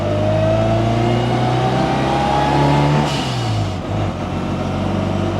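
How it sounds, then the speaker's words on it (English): A turbocharged Mini's engine runs loudly from inside the moving car, its pitch climbing steadily under acceleration before dropping sharply at a shift and pulling again, with no talking. "And the car is running exceptionally well."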